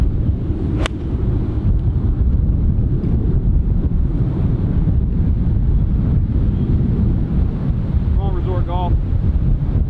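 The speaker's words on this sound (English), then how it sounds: "Wind is down off the right, 177 yards." Wind gusting across an outdoor golf course at the Las Vegas Strip, a loud continuous rumbling buffet against the microphone that persists steadily throughout, with a brief faint whistle near the end.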